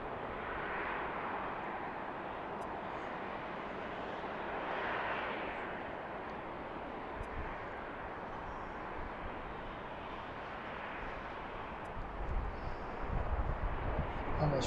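Arriving airliner on approach at Baltimore BWI airport, a steady broadband jet roar sustained throughout, swelling slightly near the end, with voices talking faintly underneath.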